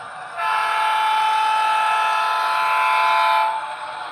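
Train horn sounding a long, loud sustained blast of about three seconds, steady and close, rising in at the start and cutting off near the end, with no talk over it.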